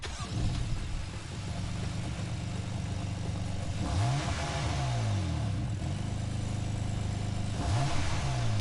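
A BMW car engine in the video game Gran Turismo Sport revs continuously, rising and falling in pitch through repeated gear shifts, loud and steady throughout.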